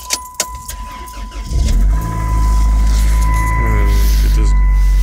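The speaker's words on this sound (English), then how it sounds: "Let me turn this car on for y'all." In cold Chicago winter, a car engine cranks and catches after a few clicks and rattles, then settles into a loud, steady close idle rumble; someone talks briefly before it starts.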